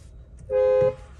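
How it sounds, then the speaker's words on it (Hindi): A single short, loud Audi A6 sedan horn honk, close by, lasting under half a second over quiet background. "कुछ ऐसा आपको इसका हॉर्न मिलेगा जो कि काफ़ी लाउड है"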